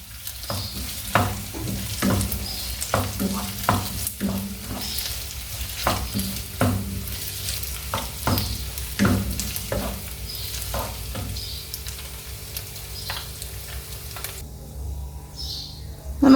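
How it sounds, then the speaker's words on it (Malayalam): Pressure-cooked beef frying in coconut oil for a homemade beef pickle, a steady sizzle broken by repeated scraping and stirring strokes from a spoon in the pan, close and continuous, with no talk. "നമ്മുടെ ബീഫ് നല്ല ഫ്രൈ ആയി കൊണ്ടിരിക്കുകയാണ്"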